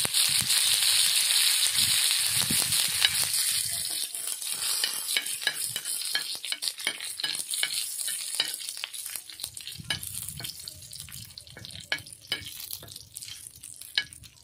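Curry leaves and cumin seeds spit and sizzle in hot mustard oil, a loud crackling fry that starts dense and settles into scattered pops and stirring clinks.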